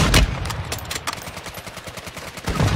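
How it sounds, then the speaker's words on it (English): Gunfire crackles in Call of Duty Warzone, rapid rattling shots in fast succession with a few heavier close bangs at the start and end. "How are you still shooting at me though"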